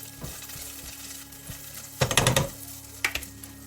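Beef frying in a pan for Cantonese sweet and sour beef: a soft steady sizzle runs throughout, broken by louder clattering scrapes as the pieces are stirred and moved around, with a few sharp knocks.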